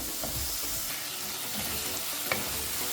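Green chillies and carrot sizzle steadily in a pan while being stirred, a close, continuous frying hiss with a small clink of a utensil near the end.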